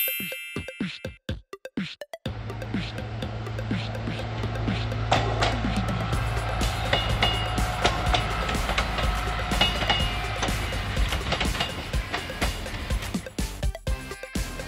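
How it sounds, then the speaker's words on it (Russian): A rail bus, a bus converted to run on railway tracks, rolling along the rails with a continuous low rumble and scattered clicks and clanks of wheels over joints, preceded by a few sharp percussive hits. "Рельсовый автобус – это автобус, переоборудованный для движения по железной дороге."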